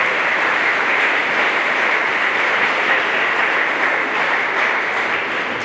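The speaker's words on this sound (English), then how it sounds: "please give yourselves a round of applause for a great year and a great effort" Steady, broad applause washes through a hall at a sports recognition night, a big crowd clapping continuously at an even, loud level throughout.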